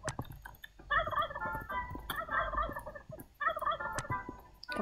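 A turkey in the Roblox game Wacky Wizards gobbles in three rapid, rattling bursts, close and clear, with a few soft clicks between the calls and no talking.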